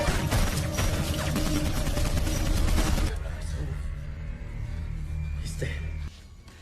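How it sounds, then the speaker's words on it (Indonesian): Dense, rapid pistol gunfire in a film crackles loudly for a few seconds, then cuts to a quieter, lingering rumble. "Tian yang melihat hal ini langsung menembakkan pistolnya dan dengan barbar menembaki Joy."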